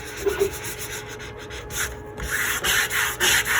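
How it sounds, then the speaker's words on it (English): Freshly cut leather being burnished down by hand, steady rubbing strokes that scrape and swish in uneven bursts, close and fairly quiet, with a faint hum in the background. "I'm going to burnish it down real good"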